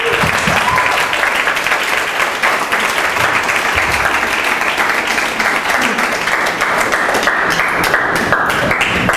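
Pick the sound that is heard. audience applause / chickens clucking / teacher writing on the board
audience applause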